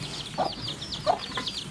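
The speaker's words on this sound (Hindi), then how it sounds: "छोटे छोटे चूजे" Chickens with small chicks clucking nearby, soft repeated clucks along with faint high chirping over a light background hum.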